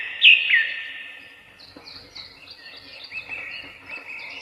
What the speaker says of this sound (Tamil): இத கேட்டதுமே மீனுக்குருவி தன்னோட குரல்ல ஒரு பாட்டு பாடுச்சு